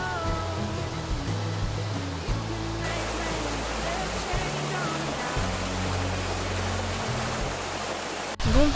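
A hot spring flows into a river in Tuscany, making a constant broadband rush of water that fills the whole clip. Low rumbling and wind-like buffeting sit underneath, and a sharp handling bump comes at the very end.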